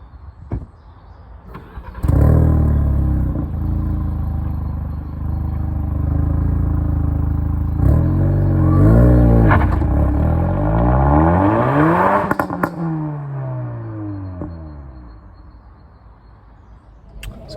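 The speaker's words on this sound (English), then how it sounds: "I'm going to accelerate away in" A Ford Focus ST MK4 in track mode accelerates hard from a start. The engine roars close and loud, its pitch climbing through the revs and dropping at gear changes, then it fades as the car pulls away.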